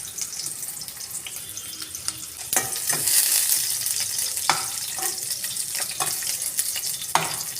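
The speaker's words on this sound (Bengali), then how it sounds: "পেঁয়াজটা আমার ভাজা হয়ে গেছে" Onions fry in hot oil in a wok, a continuous bright sizzle close by, with occasional clacks and scrapes of a stirring utensil.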